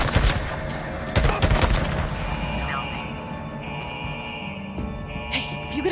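Gunfire crackles through a Days Gone firefight: sharp broadband shots burst early, with a heavy volley near one second, then a continuous rumble of battle persists beneath speech and game noise.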